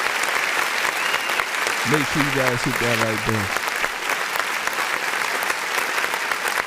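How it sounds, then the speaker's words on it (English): Continuous crowd applause at moderate loudness, a steady wash of many hands clapping while a voice talks briefly over it partway through. "Let me give you a hand clap."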